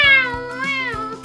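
A person imitates a cat with a drawn-out, high, wavering meow, loud and close, alone, followed by a couple of soft taps.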